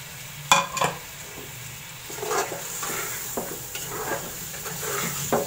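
Tomatoes and onion cooking in a pot with turnip and mutton for dhaba-style shaljam gosht, giving a steady low sizzle with a few sharp clinks and scrapes of a utensil stirring near the start and end.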